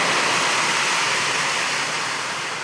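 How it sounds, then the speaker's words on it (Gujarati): Heavy rain pours down in Ahmedabad, a dense, steady hiss-and-roar that holds evenly from start to end with no voices. "બહુ વરસાદ આવ્યો."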